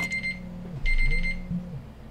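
A repeating electronic alarm tone from the survival horror game Resident Evil 0, two short bursts of a steady high beep over a low ambient game hum, with no talking.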